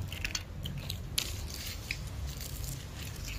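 Close crunchy chewing of tikoy rice cake with irregular bites and soft crackles, steady and alone with no talking.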